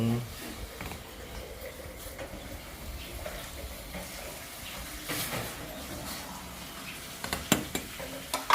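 Pork for a spicy lime pork dish fries in a pan with a soft, continuous sizzle. A utensil stirs and scrapes now and then, and sharper clinks of metal on the pan come near the end.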